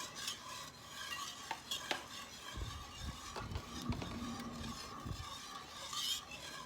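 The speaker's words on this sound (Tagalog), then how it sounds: "yung ating condensed milk. Hahaluin lang guys." A spoon stirs condensed milk for a jelly flan, a close, soft scraping and swishing that repeats in an uneven rhythm with light clinks against the bowl, quiet and without talk.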